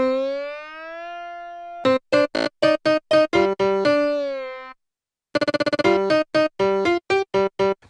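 Piano-like melody from a multisampler, built from individual unprocessed MIDI notes with pitch bend and no release, plays a sustained bending tone, then a run of rapid short staccato notes, a pause, and another quick burst of clipped notes.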